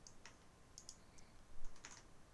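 Quick, light plastic clicks from a computer mouse while drawing a building section with 110 mm and 160 mm insulation in architectural CAD software, scattered singly and in pairs over a quiet background with no talking.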